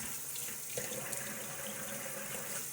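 Tap water runs steadily into a sink for a quick rinse during a wet shave, a soft continuous splashing rush heard close with no talking.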